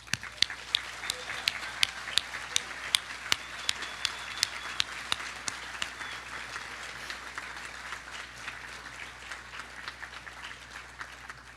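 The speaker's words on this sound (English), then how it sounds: "Please join me in a round of applause and a cheer for our current scholarship recipients." An audience at a scholarship celebration in Wenatchee gives a long round of applause for the scholarship recipients, with sharp claps close by standing out over the wider clapping, which slowly thins.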